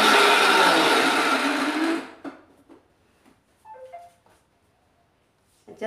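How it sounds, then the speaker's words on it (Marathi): A kitchen mixer grinder whirs loudly as it grinds masala, running for about two seconds before cutting off, followed by faint clinks and quiet handling sounds. "आता मी मसाला वाटून घेते मिक्सरला."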